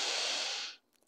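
A deep, steady inhale through the nose during a yoga child's pose in a Pilates and yoga session, one long breath lasting most of a second and close to the listener, then trailing into quiet.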